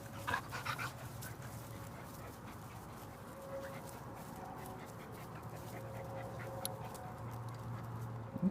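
A young Irish Setter puppy pants in quick, soft, close breaths over a low steady hum, with a few brief whimpery sounds near the start.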